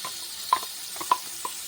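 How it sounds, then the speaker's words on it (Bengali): Black cumin (nigella) seeds frying briefly in hot oil make a soft sizzle with a few quick crackles and pops spread over a moment. "কালো জিরে আমি একটু ভেজে নেব কয়েক সেকেন্ডের জন্য"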